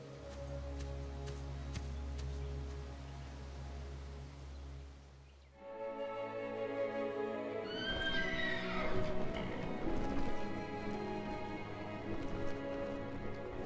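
Horses neigh and whinny loudly while hooves clip-clop in an animated fantasy film, following a low steady hum that cuts off abruptly.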